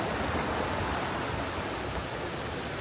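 Continuous loud rushing roar of a Himalayan mountain waterfall, a dense, unbroken wash of noise with no voices.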